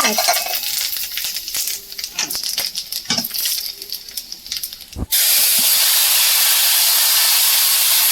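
Bay leaf, dried chilli and five-spice seeds hit hot oil in a hot pan with a few clatters and pops. A sudden loud, steady sizzling hiss then takes over and lasts to the end.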